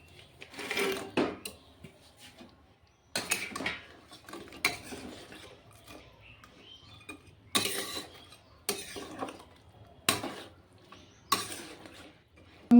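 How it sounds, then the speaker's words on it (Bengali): Fried snakehead fish pieces go into a cooking pan with fried potatoes, making sharp, irregular metallic clatters and scrapes in separate bursts, close and fairly loud, with quiet gaps between them. "এখন আমি মাছগুলো ঢেলে দেব।"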